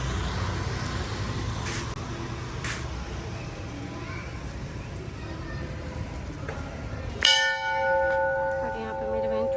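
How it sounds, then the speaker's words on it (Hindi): A temple bell is rung during a Sawan Monday Shiva worship visit: one loud metallic strike rings out with a long shimmering decay, following several seconds of busy outdoor background with distant traffic and voices. "यहाँ पे मेरी बहन छोटी पड़ जाती है घंटी बजाने में"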